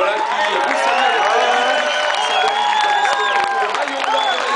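A Tour de France 2010 podium crowd cheers and applauds for cyclist Andy Schleck, a loud, dense, continuous roar of clapping, whoops and whistles that stays steady throughout.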